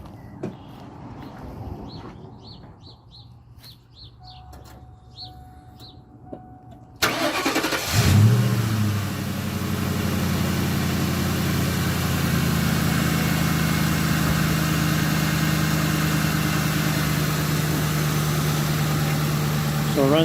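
A 1998 Ford Mustang GT convertible cranks and fires up abruptly after a quiet stretch with a few faint sounds, then settles into a steady, fairly loud, smooth idle that holds to the end.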